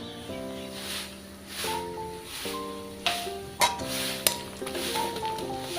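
Onions fry in a pan with a pinch of radhuni spice tempering for a winter leafy-greens dish, a soft sizzle beneath a held musical tone, broken by a few sharp metallic clinks of a spoon against the pan.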